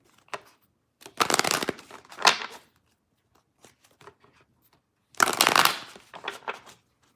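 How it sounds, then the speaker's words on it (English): A deck of playing cards being shuffled by hand in two separate riffling bursts with a quiet pause between them, close and crisp, with no talking. "we're going to shuffle up some cards here"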